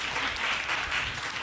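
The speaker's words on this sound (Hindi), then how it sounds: "जोरदार तालियां" An audience at a motivational talk claps loudly together, a dense, even burst of applause heard briefly and alone.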